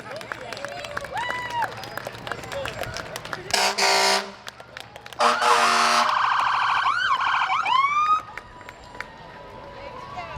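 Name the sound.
fire engine sirens and horns at a parade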